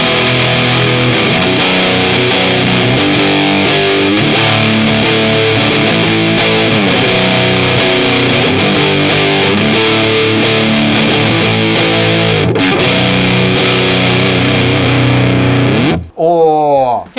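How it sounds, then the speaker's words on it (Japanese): Electric guitar played through a Fuzz Factory fuzz pedal, a loud, thick distorted tone ringing out in sustained chords and notes for a long stretch, ending with a brief squealing burst. "ディストーションとかオーバードライブに近い歪み方で弾きやすいですね。"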